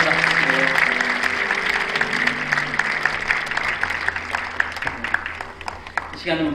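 Church congregation at an ordination thanksgiving service breaks into warm applause, a broad clapping wash that gradually thins and tapers, with a voice speaking faintly beneath it.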